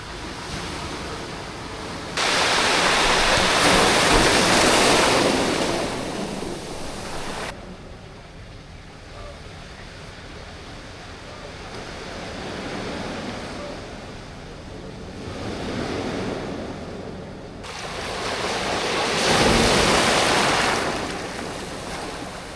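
Sea waves rushing onto the shore at night at a bike camping spot in Quezon, loud surging washes that build, break and recede in slow cycles over a constant roar.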